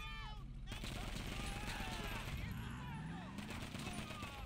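Gunfire crackles during a lowrider mission in GTA 5 Online, rapid repeated shots mixed with game sounds while people talk over the action.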